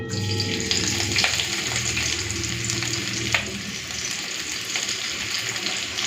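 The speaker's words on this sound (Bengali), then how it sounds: "তেলটা গরম হয়ে গেছে দিয়ে দেবো পেঁয়াজ কুচি" Chopped onions crackle and sizzle in hot oil in a pan for a taro stolon and lentil dish, a dense continuous frying hiss with a few faint utensil clicks.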